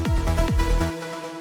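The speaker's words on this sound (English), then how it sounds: "I bring up a different synth, a lead sound, a bit more clear, right?" A clear synth lead plays a short melodic phrase of a few quick notes with a bright, focused tone, ringing out and decaying after about a second.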